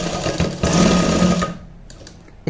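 A simple sewing machine runs steadily while stitching a blouse hook-and-eye, its whirring motor and needle rattle loud and close for about a second and a half before slowing and fading.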